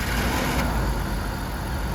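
A BMW E46 car engine idles steadily at about 900 rpm up close after repair, a loud, even low rumble with no voices.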